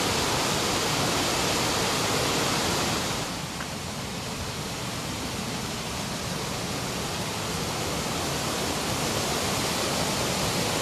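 Winthrop Creek rushing beneath a bridge on Mount Rainier's Wonderland Trail, a loud, constant roar of flowing water that dips slightly in level partway through, then swells again.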